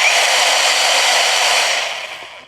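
A battery-powered mini chainsaw with a brushless motor runs at a steady high-pitched whine, loud and close, then winds down and fades over the last second.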